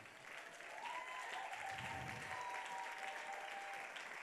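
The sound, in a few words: audience applauding in church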